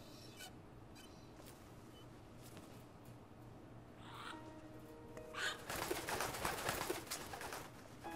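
Bird cooing in Metal Gear Solid 2, soft pigeon-like calls over a low game ambience hum, with a brighter burst of background noise near the end.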